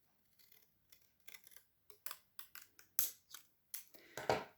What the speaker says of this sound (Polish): górną warstwę przednę nożyczkami mniej więcej w tym miejscu